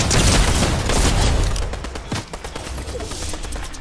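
Dense rapid gunfire in the Fortnite video game during a trio match, loud and continuous bursts filling the first half, then lighter scattered shots and impacts; no voices over it.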